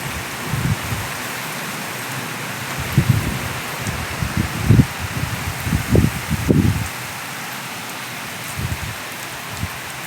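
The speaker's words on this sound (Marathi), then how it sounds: "एकसारखा जोरात पाऊस चालू आहे, मुसळधार पाऊस चालू आहे" Heavy, steady out-of-season downpour driven by strong cyclone winds at a home, a continuous broadband wash of rain with gusty rustling surges and a few louder bursts near the middle, no speech.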